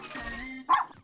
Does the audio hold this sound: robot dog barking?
yes